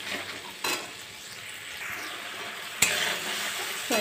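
Paneer masala seasoned with salt sizzles steadily as it is sautéed in a pan, with a couple of sharp scrapes of the spoon against the metal, close and continuous.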